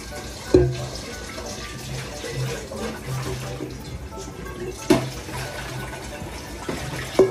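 Tap water runs steadily into a sink while a few dishes are rinsed, with a handful of sharp knocks and clinks standing out over the flow, close by.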